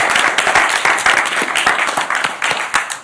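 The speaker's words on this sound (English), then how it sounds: "Oh, wait, round of applause." An audience at an anniversary symposium panel breaks into a round of applause, loud and close, with many hands clapping steadily throughout.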